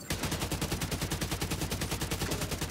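Minigun fire in The Division 2: a continuous, loud, rapid stream of evenly spaced shots rattling without pause for nearly three seconds, close and dense.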